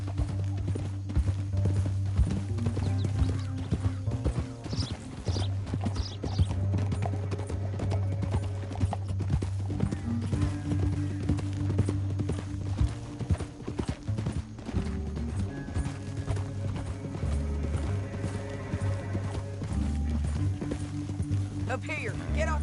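Horses galloping in a Western video game: rhythmic hoofbeats clip-clop steadily under constant dialogue and a low droning music score, with an occasional whinny.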